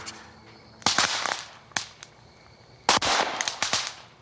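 Pure sodium dropped into ordinary water reacts violently, throwing off sharp cracking pops and bangs as released hydrogen explodes in air, several loud bursts at irregular intervals over fizzing, crackling noise.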